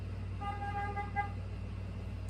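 A vehicle horn from an Amazon truck outside toots once for about half a second and then gives a shorter second toot, heard at a distance through a steady low indoor hum.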